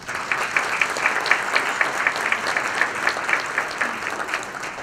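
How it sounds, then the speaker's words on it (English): Steady audience applause fills a hall at a State of the City address, a dense continuous wash of many hands clapping that holds evenly throughout and tapers slightly at the end. "And a big round of applause, I think, is important for John Veras, Vern Blaze, and the finance"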